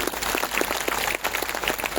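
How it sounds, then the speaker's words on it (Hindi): Loud applause at the annual general assembly of a Catholic women's association in Ranchi, brisk rhythmic clapping from many hands, close and energetic, with a short dip midway before resuming. "जोरदार तालियां बजा दें"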